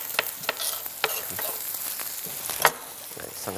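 Thinly sliced vegetables sauté in a pan after mushrooms for escargots en cassolette, giving a steady sizzle broken by sharp clinks and scrapes of stirring.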